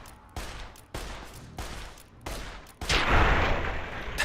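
Gunfire in the Fallout video game: sharp shots crack at regular intervals, then a loud, sustained blast of explosion noise roars on, close and very loud.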